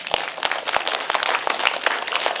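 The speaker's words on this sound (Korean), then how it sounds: "박수 안 칩니까?" Scattered audience applause at a lecture in a cinema hall, moderate and fairly brief, with individual claps standing out from the patter.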